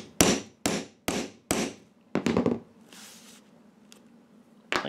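A hole punch is hammered through a tarp onto a strike plate with four sharp, evenly spaced metallic blows, then a quick flurry of strikes, a soft rustle of the tarp, and one final hit.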